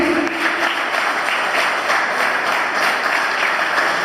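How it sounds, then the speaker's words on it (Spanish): A church congregation gives loud, sustained applause to welcome a first-time visitor, an even, continuous roar of many hands clapping with a faint tone lingering briefly at the start. "Fuerte aplauso a Martín."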